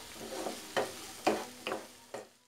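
Mushrooms frying in a tomato masala curry are stirred with about five close scraping strokes in the pan over a soft sizzle.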